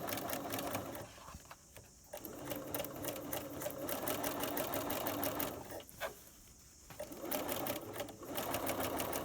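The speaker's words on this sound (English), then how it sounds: "Very gently do a reverse stitch at the top, and use your hands to guide the fabric all the way down." A sewing machine stitches an invisible zip into fabric in several short runs, its rapid needle chatter stopping briefly twice, close and clear with no talk.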